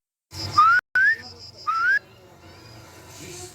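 Three short rising whistles used to call chickens, close and clear, the first two in quick succession and the third after a pause, over faint background noise.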